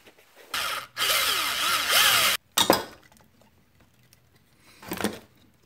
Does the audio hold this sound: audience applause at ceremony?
no